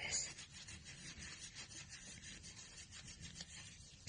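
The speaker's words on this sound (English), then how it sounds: "get a soft tissue or scrap of fabric and just buff the excess polish back off again" A soft tissue buffs excess polish off a small metal piece, making faint, continuous close-up rubbing with a gentle swishing texture and a brief tap at the very end.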